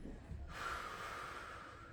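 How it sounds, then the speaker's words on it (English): Deep inhale and exhale during a yoga exercise, a single long breath rising after a short pause and holding steady and close, with no talking. "Breathing."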